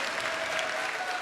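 An audience at a Catholic talk by Padre Léo breaks into a thick, steady round of applause, many hands blending into one loud, continuous roar.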